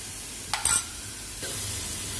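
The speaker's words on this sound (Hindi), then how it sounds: "अब मैं डालूंगी सुपर छौंक" Hot tempering (chhaunk) poured into a pan of home-made boondi raita gives a short sizzle with a crackle, then a steadier hiss that continues to the end, fairly close and without talk.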